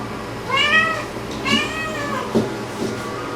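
A thin cat meows twice while receiving an intramuscular injection in a veterinary clinic, each cry clear, close and drawn out, followed by a couple of soft handling bumps.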